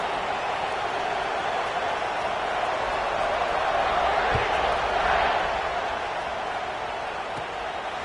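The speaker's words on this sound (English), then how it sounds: "this crowd is buzzing after that last score" Steady stadium crowd buzz from a college football video game, a broad continuous roar holding at even loudness throughout, with a faint low thump midway.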